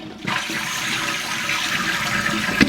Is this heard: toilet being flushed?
yes